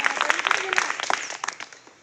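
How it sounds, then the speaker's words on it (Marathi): A short burst of audience applause at a school supplies and snack distribution event follows a coin magic trick, with scattered claps fading out over a couple of seconds. "वाजवा टाळ्या तुम्ही"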